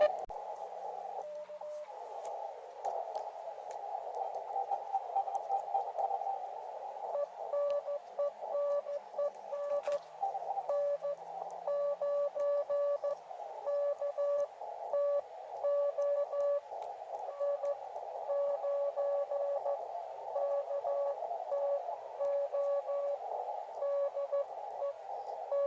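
Morse code CW signal on the 80-meter ham band, keyed tone pulsing steadily in dot-dash rhythm over a constant hiss of radio noise, sustained throughout at moderate level.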